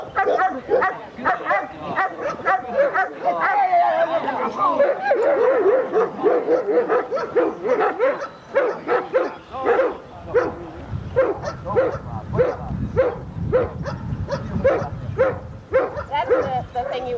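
A dog barks and yips in short bursts during an outdoor dog training session, the barks clustered and close, with people talking over much of it.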